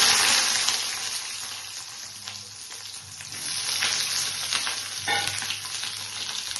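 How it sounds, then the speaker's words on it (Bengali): Eggplant pieces frying in hot oil for a Bengali hilsa fish curry, giving a loud, dense, hissing sizzle that swells and eases, with a few spatters and pops near the end. "এই সাইডে তেলটা গরম হয়ে গেছে, আমি বেগুনগুলোকে ফ্রাই করে নিচ্ছি।"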